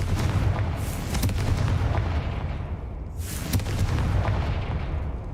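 Confringo blasting spell in Hogwarts Legacy, a couple of sharp booming blasts with bursts of crackle and whoosh over a steady rumbling background, loud and close.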